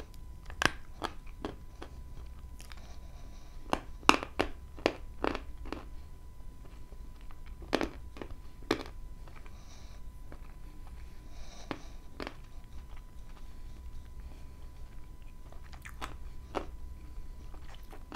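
Dense, crunchy Zhetysai white chalk bitten and chewed up close, with a long series of sharp crisp cracks and crunches in an irregular rhythm, alone and without talk.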